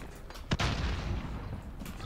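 Gunfire in the battle-royale game Warzone: one sharp, heavy shot followed by a booming rumble and low ambient game noise, with a fainter pop near the end.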